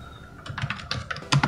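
A command is typed at a computer keyboard's command prompt, a quick, close run of crisp key clicks lasting about a second, ending with a slightly heavier keystroke.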